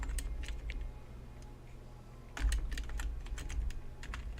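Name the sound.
typing on a new computer keyboard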